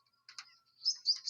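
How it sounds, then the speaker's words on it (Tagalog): Short high chirps and tweets in a pigeon loft, a couple of quick calls followed by a brighter cluster of bird notes, faint and close with silence between. "Yan naman yung ating mga kalapati rito."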